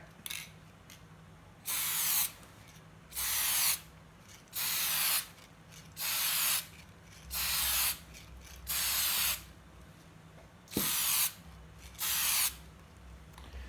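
Aerosol paint sprayed as a light coat onto a disruptor model, eight short even hissing bursts of about a second each with brief pauses between, close and fairly quiet, no talking.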